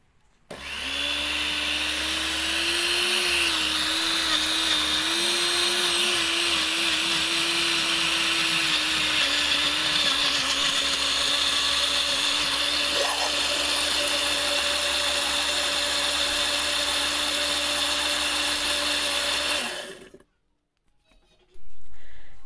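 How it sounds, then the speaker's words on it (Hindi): A kitchen blender grinds green chutney ingredients in one steady, loud whir for about twenty seconds, the motor pitch dipping slightly as the mixture smooths, then cutting off abruptly. "तो यहाँ पर अब इन सब चीज़ों को हम जो है अच्छे से ग्राइंड कर लेंगे"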